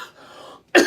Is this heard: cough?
yes